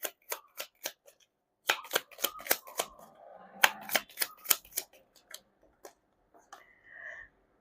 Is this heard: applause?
no